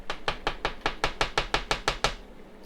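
A solid brick of vacuum-sealed tomato powder is knocked against a hard surface ten times in a steady, even rhythm, each sharp, close, loud knock standing alone with no talk.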